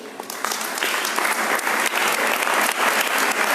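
Attendees at an annual ordinary and extraordinary assembly in Atlanta break into applause, a steady patter of many hands, moderately loud and continuous with no speech over it.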